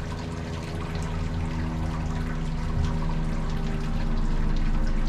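About 13 litres of sparge water for home brewing pours in a steady, continuous stream, a full splashing rush that grows slightly louder toward the end.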